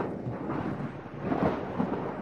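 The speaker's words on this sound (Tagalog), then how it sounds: "bakit may kulog?" Thunder rumbles through a deep, steady roll that swells slightly toward the end, with no voices heard.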